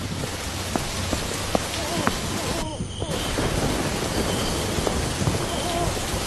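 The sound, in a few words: heavy rain with thunder, sound effect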